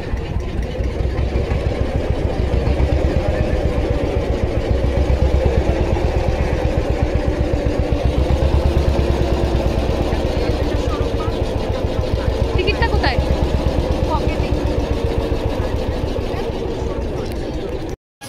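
An engine idles steadily and loudly with a fast throbbing pulse for most of the clip, then cuts out abruptly at the end; a voice talks over it.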